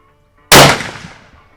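A Savage Axis 6.5 Creedmoor rifle fires a single loud, sharp shot after near silence, its crack fading in a short ringing tail.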